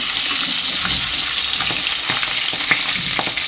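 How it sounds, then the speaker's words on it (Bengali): Small fish fry in hot oil in a pan, giving a loud, close sizzle with scattered pops and the clatter of stirring, and no talking. "চলো মাছগুলো ভেজে নিই"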